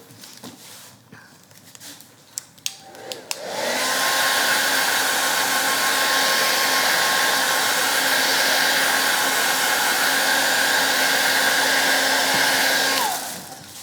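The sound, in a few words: hair dryer drying stencil paint on wooden door hanger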